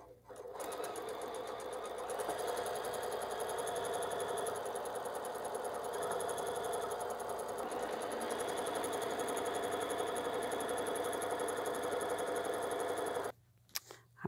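A sewing machine stitches a quilt block, running in one loud, continuous whir for about thirteen seconds before stopping abruptly.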